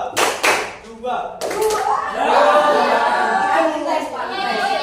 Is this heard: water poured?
no